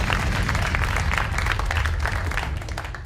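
A studio audience in the Bay Area applauds the moms at a Mother's Day weekend comedy show, with dense, steady clapping and light crowd noise sustained for about three seconds without speech.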